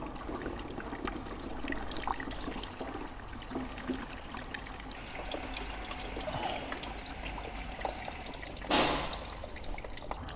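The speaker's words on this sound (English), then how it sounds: "Full watering can, full of hot water." A full watering can pours hot water onto a Mercedes with ABC suspension trouble, giving a steady, soft, close trickle and splash with a brief louder gush near the end.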